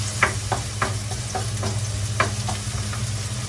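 Adobo browning in a frying pan, a steady sizzle with a low hum beneath and repeated stirring scrapes at a loose, irregular rhythm, close and moderately loud.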